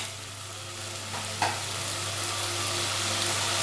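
Tomato, garlic and green chili paste with a little ginger fries hard in a pan for a fish egg curry, a dense steady sizzle throughout with one brief stirring scrape.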